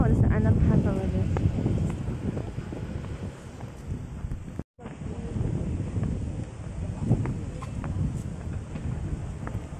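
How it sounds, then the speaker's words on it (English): Strong wind buffets the microphone outdoors near an underpass, a loud continuous roar with a brief dropout midway, while people talk over it. "Oh, so windy down there."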